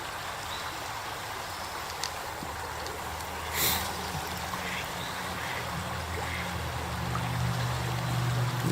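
A stream flows steadily under a small countryside bridge on a walk, a continuous broadband rush of water with faint trickles throughout and no talking.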